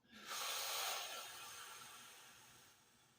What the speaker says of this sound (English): Breathing into your mouth.